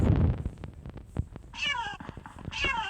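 A cat meows twice in the Minecraft video game, two clear drawn-out mews near the end of the clip, preceded by soft thumps and clicks of in-game action.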